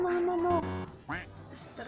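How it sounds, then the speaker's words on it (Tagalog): Chickens squawk and cluck noisily in the background at home, with loud overlapping harmonic calls that sound almost like quacking, mixed with nearby talk. "Ang ingay ng mga manok."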